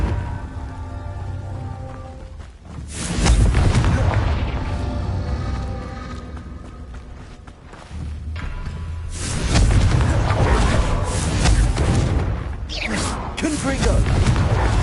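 Confringo blasting spells detonating in the wizarding video game Hogwarts Legacy, several loud, broad roaring explosions that swell and linger with crackling debris, separated by quieter lulls.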